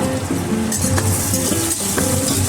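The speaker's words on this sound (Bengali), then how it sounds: "আমার পেঁয়াজগুলো ভাজা হয়ে গেছে। এরপর আমি এর মধ্যে টমেটো কুচি দিয়ে দেবো।" Chopped tomato added to fried onions in a pan, giving a loud, continuous sizzle with the repeated scrape of a spatula stirring through it, no talking.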